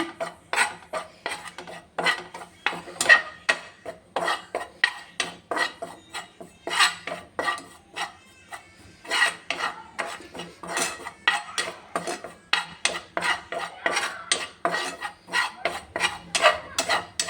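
A spoon stirs gram flour with a pinch of turmeric as it roasts on a low flame in a pan: a steady run of quick metallic scrapes and knocks for the whole stretch, close, with no talk.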